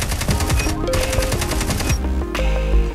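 The KN44 gun firing in Call of Duty Mobile, fitted with the Mystic Fox skin, a rapid, loud, even stream of automatic shots with a brief break before another burst, heavy and close.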